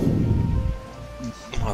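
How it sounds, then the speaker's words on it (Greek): A deep rumble of thunder rolls beneath steady rain in the stormy weather of the game Final Fantasy XVI, loud at first and then fading into a softer wash. "Μαύρη κατάχνια και βροχή."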